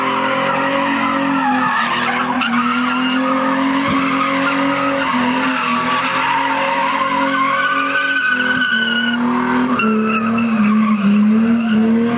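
A car at a large meet held at full throttle, its engine roaring loud and close while the tires squeal and skid without a break.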